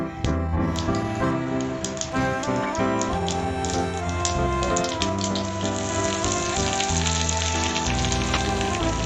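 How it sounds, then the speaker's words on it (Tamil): Hot oil sizzles and crackles steadily as mustard seeds, urad dal and curry leaves fry for a tomato chutney tempering, with a steady musical backing playing over the hiss throughout. "உளுந்து கடுகு கருவேப்பிலை சேர்த்து நல்லா தாளிச்சுக்குங்க"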